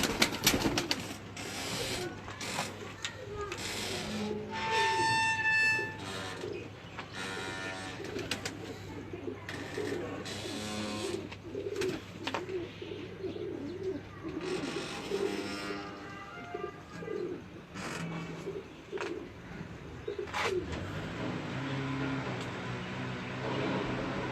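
Breeder pigeons cooing in a loft, soft low murmuring coos repeating over a busy background, with occasional sharper chirps and people talking intermittently.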